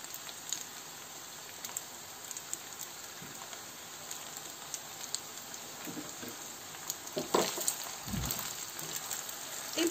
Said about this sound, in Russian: И теперь заливаем все сливками.